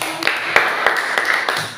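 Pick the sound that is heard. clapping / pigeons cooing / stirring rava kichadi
clapping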